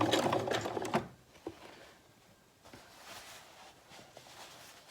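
A sewing machine back stitching the start of a French seam on a bag whirs in a loud, brief burst, then stops, leaving faint handling clicks and rustles.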